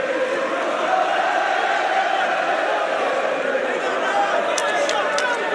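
A boxing arena crowd roars in a sustained, dense wall of cheering and shouting, loud throughout with no pauses, the sound of a packed fight-night venue.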